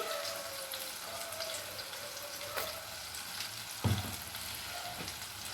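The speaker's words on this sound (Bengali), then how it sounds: "প্যাটিটা যতক্ষণে ফ্রাই হচ্ছে" A chicken burger patty fries in a pan with a steady, moderately quiet sizzle and crackle throughout, plus a brief clunk near the end. No speech.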